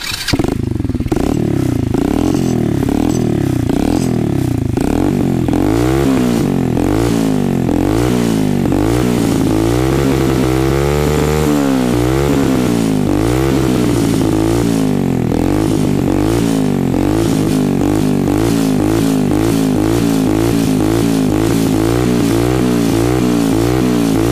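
A motorcycle engine fitted with a carbon exhaust pipe and silencer idles with a rough, throbbing pulse, revving up and down repeatedly through the muffled exhaust, steady and close with no speech.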